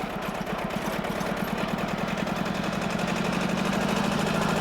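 A Lamborghini R230DT tractor engine runs hard at full throttle, a loud, close, rapidly pulsing diesel drone that holds steady and rises slightly in intensity, with no talking.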